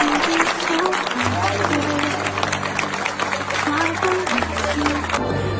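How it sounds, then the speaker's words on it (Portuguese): A church congregation gathered at a cemetery claps for their pastor at his burial, a steady crowd applause running throughout, with sustained musical tones and voices underneath. "você vê aí os aplausos"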